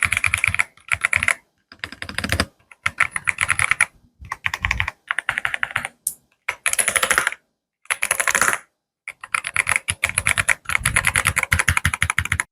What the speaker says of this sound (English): let's actually hear the keycaps right now